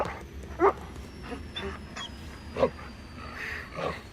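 A dog in a cutscene of the video game Ace Combat 7 gives two or three short, faint barks or yelps over a quiet background hum.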